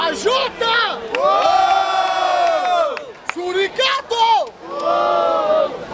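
A loud crowd at a rap battle in Barueri, São Paulo, roars and cheers, rising in sustained waves of shouting with brief dips between bursts.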